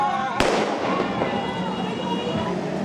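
Firecrackers set off in a street in Tondo, Manila to welcome Christmas: one sharp loud bang, then a dense crackling hiss of more firecrackers and distant pops continuing throughout.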